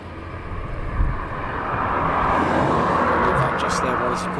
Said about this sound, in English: Cargo jet pushing back,